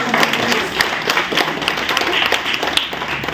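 An audience at an Inner Wheel Club event applauds three children, with moderate clapping that has sharp individual claps standing out and a faint murmur beneath.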